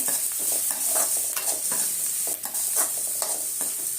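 Onions sautéing with a little turmeric in a pan for a banana-flower and drumstick-leaf stir-fry, a constant close sizzle broken by scraping stirring strokes, with no voices.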